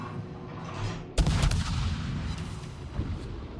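Gunfire in a video game: a loud, sharp blast lands suddenly after a quieter stretch, followed by continued rumbling battle noise and a few further bursts.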